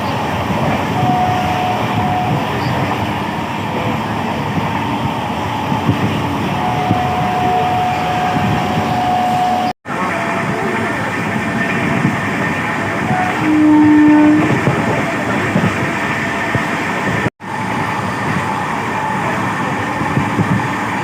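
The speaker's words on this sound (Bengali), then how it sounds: "আমরা ট্রেনে উঠে পড়েছি" A passenger train runs close by with a loud, continuous rumble and clatter, and its horn sounds briefly near the start and again later.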